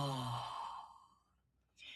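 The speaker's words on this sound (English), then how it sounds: "we're going to pretend to yawn so that you can get a sense of what it feels like" A pretend yawn made by one person, a long breathy voiced exhale that slides downward and fades over about a second, followed by a brief airy breath.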